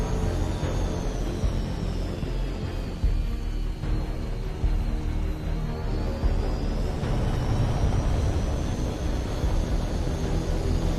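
An aircraft flies steadily overhead during a military training intercept, a continuous broadband engine roar with a slowly shifting whine that holds loud and even for the whole stretch, with no voices.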